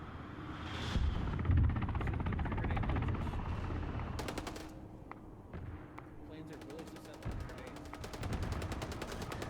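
Gunfire from an aerial battle in the military game Arma 3, with repeated bursts and cracks over a dense rumbling background; loud and continuous across the scene, with sharp volleys in the middle and near the end.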